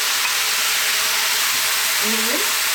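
Onions fry in a pan as the start of an Ethiopian fish stew, asa wot, making a loud, dense, continuous sizzle that stays close and even from start to finish, with a brief faint tonal sound near the end.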